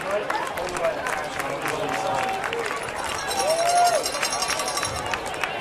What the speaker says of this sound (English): Got some clapping, if nothing else, from the Quakers